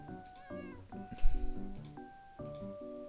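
A cat meows in a video game, with a few short meows over a bouncy, tonal game melody, fairly close and clear.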